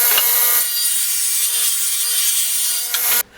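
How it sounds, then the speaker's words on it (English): A saw rips through a half-inch plywood panel, making one continuous bright, loud cutting whine for about three seconds before the blade clears the wood and the sound drops away. "I'll start by ripping a 9-inch wide section off of this 1/2 inch plywood panel."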